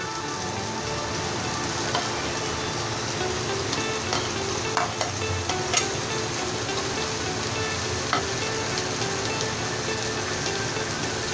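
Tomatoes with ginger garlic paste fry in a pan while being stirred, producing a steady, dense sizzle broken by occasional scrapes of the spoon, with no talking over it.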